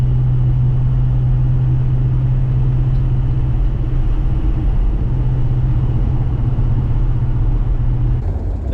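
A 1949 Studebaker Champion car struggling to accelerate, its engine droning in a low, steady hum with road rumble, heard from inside the cabin at constant loudness.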